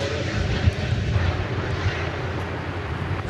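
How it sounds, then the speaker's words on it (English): A Finnair airliner approaching to land at Dallas Fort Worth airport, a steady low jet-engine rumble held at a moderate distance throughout, with no talk over it. "We'll get a very brief glimpse of the Finnair flight coming in."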